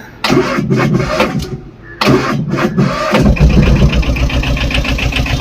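A 2019 Tata Ace Gold mini truck engine is started: two loud, close bursts of starter cranking, then the engine catches and settles into a steady, rattling idle.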